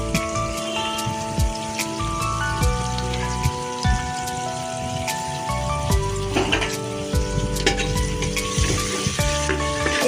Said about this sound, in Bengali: সবই হালকা করে ভেজে নেবো।